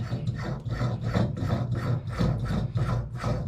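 A wrench turns out a stem from a triple-handle tub faucet, giving a close, rhythmic grinding and rubbing in repeated strokes over a few seconds.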